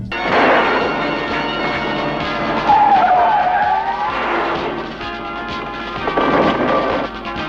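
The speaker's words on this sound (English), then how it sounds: "The scientist's daughter, Patricia, is pursued in a car chase that goes on for way too long." Car chase in a low-budget Superman-style film, with tyres skidding and squealing in long loud bursts over engine roar, one high whining screech in the middle.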